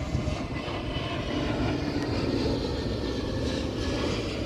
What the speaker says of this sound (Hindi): अभी जस्ट एरोप्लेन गया है, लैंड भी हो गया है वो दाबोलिम एयरपोर्ट